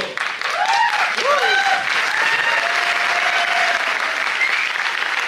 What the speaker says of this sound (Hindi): जो पी के आए हैं वो लोग ताली बजा रहे हैं